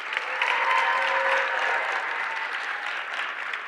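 Audience applause at a mayor's youth awards ceremony for a high school student winner, a dense, even patter of clapping with a faint sustained tone beneath, fairly loud and steady throughout.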